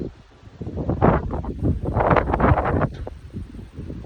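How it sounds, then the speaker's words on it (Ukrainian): Gusty wind before rain buffets the microphone in loud, surging rushes, rising and falling over a few seconds with rustling underneath. "Вітер, який нагнала."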